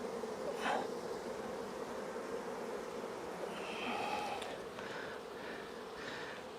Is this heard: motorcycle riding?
no